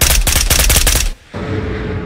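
Rapid automatic gunfire from an AK Alpha rifle in the Ghosts of Tabor VR shooter, a loud burst of fast, evenly spaced shots lasting about a second, then a brief gap and a lingering rumbling tail.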